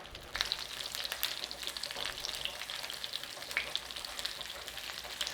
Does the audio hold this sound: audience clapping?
no